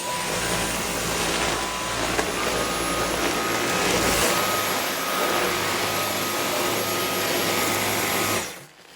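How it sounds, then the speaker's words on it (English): Household vacuum cleaner sucking hay off a farmhouse floor, a loud, steady whining roar that holds for several seconds with a high-pitched motor tone, then cuts off abruptly at the end. "That vacuuming, or hoovering, depending on where you're from, measures at 95 decibels"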